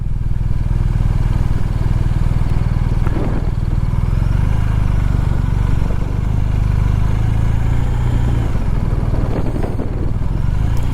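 A BMW R1250 RT motorcycle rides along with a steady, loud engine drone and constant wind and road rumble, the low throb holding evenly throughout with small clattery fluctuations.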